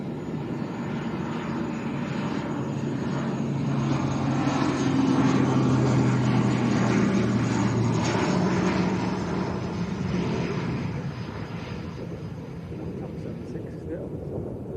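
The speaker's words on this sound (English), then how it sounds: "Bit of a nose-up landing." A Binter ATR 72 turboprop lands at Lanzarote Arrecife airport, its steady engine drone and roaring rumble swelling mid-clip and easing off, heard from a distance with voices talking over it.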